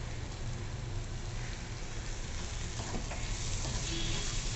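Coriander sautéed in a hot spiced tempering with green chilies for fried rice made from leftover rice, a close, steady oily sizzle with light stirring throughout.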